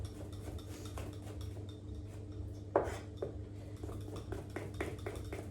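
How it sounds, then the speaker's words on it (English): A knife slicing mushrooms on a cutting board, with quiet, scattered taps and clinks against a steady low hum, then one sharper knock and a few more soft cuts. "I'm just gonna slice some mushrooms really quickly"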